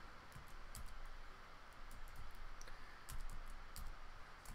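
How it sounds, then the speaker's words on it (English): Quiet, quick clicking of keys on a computer keyboard, irregular bursts of typing against a faint background hiss. "typing too fast."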